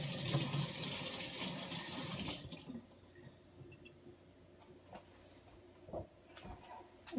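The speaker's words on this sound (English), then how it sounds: "And I just rinse this out and reuse this" Tap water runs into and sloshes around a glass jar for a couple of seconds as it is rinsed out, then stops, leaving faint drips and small knocks in a quiet kitchen.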